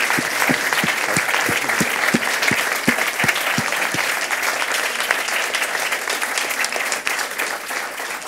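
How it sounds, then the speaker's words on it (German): After a lecture, a hall audience gives long, steady applause, a dense wash of many hands clapping at full strength for over eight seconds, with a few sharp nearby claps standing out at the start. "der lange Applaus"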